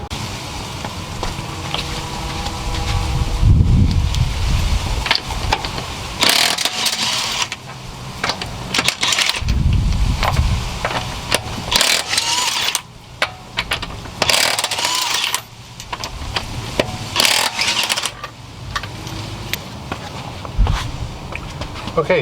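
Lug nuts being loosened from a Volvo S60 wheel with a 19mm socket, with repeated ratcheting clicks, metallic clanks and thuds close by as the wheel comes off.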